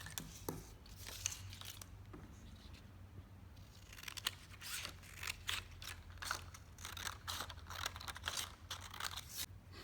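Scissors cut a paper strip for a paper spring craft, making a quiet series of crisp snips and crinkly paper rustles in an irregular rhythm, close by with no talk.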